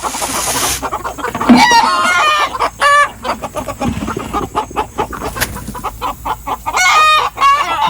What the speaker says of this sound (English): All this squawking they're doing is because I have a camera rolling.